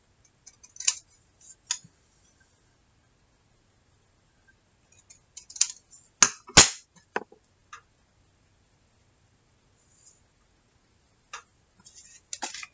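Scissors cut paper for a salt dough craft tag in sparse, crisp snips, a few isolated and a couple in quick clusters, close and fairly quiet against silence.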